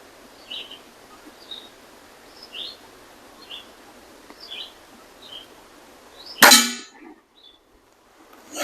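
A single sharp crack from a vintage Weihrauch HW55 air rifle being fired, loud and close, over a quiet outdoor background of scattered birdsong.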